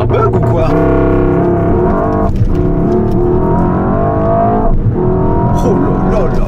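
Mercedes-AMG S63 E-Performance on launch control, its engine held loud and steady with a dense rumbling drone, easing briefly at two points before building again, while voices talk over it.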